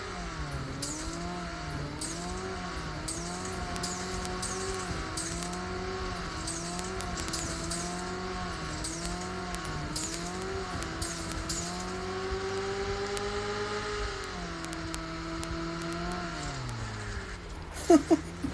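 Car engine in the video game PUBG Mobile, a steady droning motor that rises and falls in pitch as the car speeds up and eases off, running continuously with a few sharp knocks near the end.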